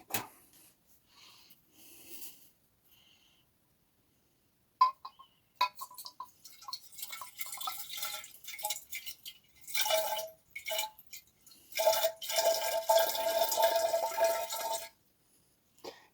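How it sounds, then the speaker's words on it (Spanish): Water poured from a bottle into another bottle comes in irregular splashing, dripping bursts after a few near-silent seconds, growing denser and louder toward the end before stopping abruptly. "vamos a proceder a vertir el agua aquí"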